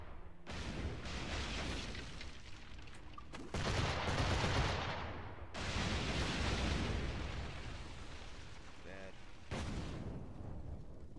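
Ship cannons fire during a naval battle in the Assassin's Creed 4 video game, heard as dense, rumbling bursts of booming gunfire that rise and fall in long waves, with brief gaps between volleys.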